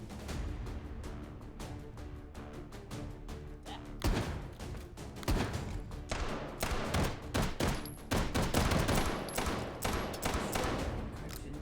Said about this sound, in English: The shotgun went sicko mode.